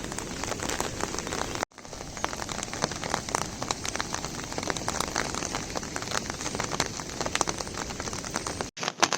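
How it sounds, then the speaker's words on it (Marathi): Heavy monsoon downpour in coastal Konkan, a dense continuous hiss of rain pattering on surfaces, steady and close with no voices, with two brief breaks. "भरपूर म्हणजे भरपूर पाऊस लागलो"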